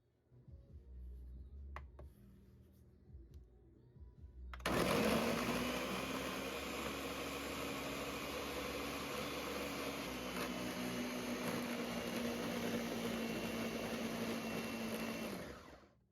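After a few seconds of quiet room noise, a blender kicks on and whirs steadily at high speed pureeing raw chicken, loud and close, for about ten seconds.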